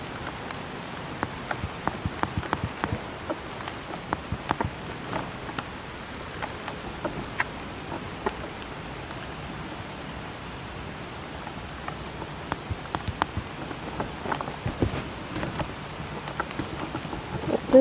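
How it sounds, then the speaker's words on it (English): Rain falling outdoors, a steady hiss of drops with scattered louder patters and ticks on nearby surfaces, continuous and moderately close. "This is how it looks when it's raining."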